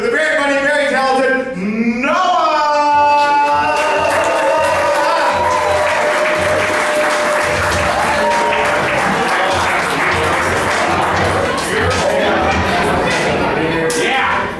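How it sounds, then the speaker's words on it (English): An audience at the Dallas Comedy Club breaks into loud, sustained applause with cheering, a dense clapping roar that fills the room while a voice shouts over it. "Big round of applause, make some noise for the very funny, very talented"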